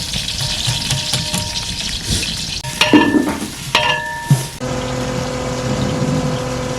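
About a kilogram of onions fry in a huge village cooking pot, a steady loud sizzle filling the clip while a ladle scrapes and clanks against the metal in several bursts midway.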